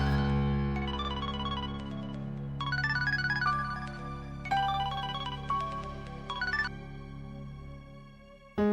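A mobile phone ringtone plays a repeating electronic melody, steady and fairly loud nearby, with a low hum beneath and no speech, ending abruptly as if answered.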